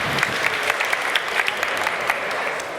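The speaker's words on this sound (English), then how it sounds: "Round of applause for Watchar." Audience clapping at a startup pitch fair as the first team is welcomed onstage, a dense steady patter of applause from a crowd filling the whole moment with no voices over it.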